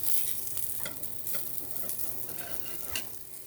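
Low-calorie fish and veggie quesadilla sizzling softly in a pan while a spatula scrapes and pokes at it in a few brief strokes, a steady quiet fry hiss underneath.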